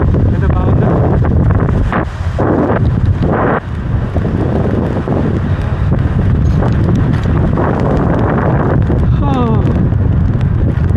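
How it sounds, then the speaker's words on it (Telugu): Loud, constant wind buffets the microphone of a rider cycling along a separate bike path in Korea, a deep roaring rumble that masks nearly everything else, with a couple of brief dips. "గాలి బాగుంది, కొంచెం క్షమించండి"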